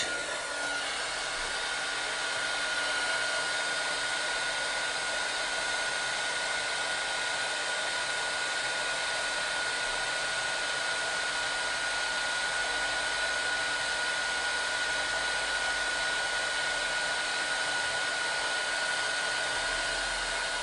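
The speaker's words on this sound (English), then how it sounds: "I'm just going to heat that with my heat tool." A steady, loud blowing roar of hot air from a crafting heat tool at a cardmaking demo runs unbroken throughout, with a constant whine on top and no talking.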